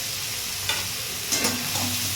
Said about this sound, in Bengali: এই থোরটা দিয়ে আমি থোরটা একটু ভাজা ভাজা করে নেব।